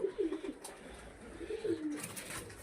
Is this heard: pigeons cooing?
yes